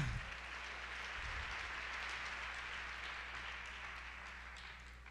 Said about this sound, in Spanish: Dele su mejor aplauso al Dios del cielo.